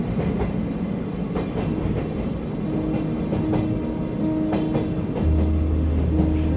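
A train runs on rails in Kyoto, a continuous rumbling roll with rhythmic clickety-clack of wheels over joints and a faint tonal whine rising from the running gear, heard from on board without talk.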